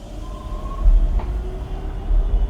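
A train pulls into a station platform with a deep, steady rumble of wheels on rails, a faint high squeal and a brief clank, heavy and close throughout.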